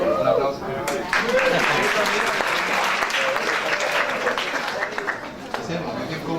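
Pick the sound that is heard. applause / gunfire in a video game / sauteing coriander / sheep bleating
applause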